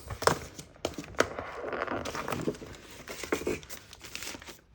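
Packaging for a Nuphy Air96 V2 keyboard is unwrapped up close, with crinkling plastic, tearing and scattered sharp handling clicks over several seconds.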